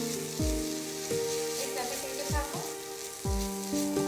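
Spiced pomfret fish frying in a pan while being stirred, a continuous close sizzle and crackle with occasional scraping strokes over a low background hum.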